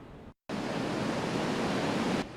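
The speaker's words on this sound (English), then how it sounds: "Waves crashing against the pier is a familiar sound to many" Ocean waves crash against Bob Hall Pier as a loud, continuous roar of surf that fills the whole clip, broken only by a brief gap near the start.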